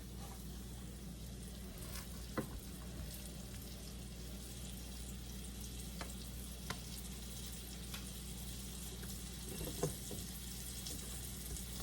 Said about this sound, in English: we'll just put them into the oil and brown them